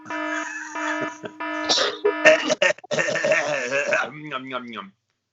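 A person coughs and clears their throat several times in quick succession during a podcast, close up, mixed with voiced sounds.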